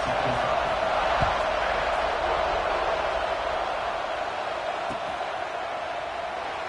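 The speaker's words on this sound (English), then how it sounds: "this crowd now ready to get behind them" A football stadium crowd roars in a continuous, loud, broad wash of cheering and noise, sustained throughout with a few faint thumps underneath.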